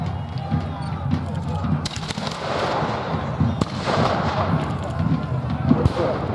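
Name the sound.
cannon fire at a Civil War battle reenactment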